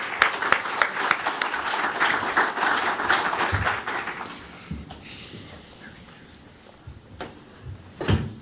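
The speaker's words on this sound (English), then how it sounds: "Let's give a round of applause to the participants here." Conference audience applauding the panel participants at a municipal finance conference, a dense burst of clapping for about four seconds that thins out into a few scattered claps and light room noise.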